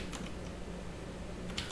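Keys on a computer keyboard are typed in a few quiet, scattered clicks against a steady background hiss.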